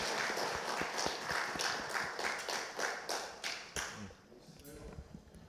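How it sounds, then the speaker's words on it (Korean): A church congregation claps during a Sunday worship service in rapid, evenly spaced claps for about four seconds before the sound thins out and fades. "하나님께 영광의 박수 올립시다."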